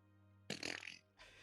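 A vocal imitation of a fart: one raspy, buzzing burst of about half a second, then a shorter, softer second blurt, close and fairly quiet, with a low steady hum underneath.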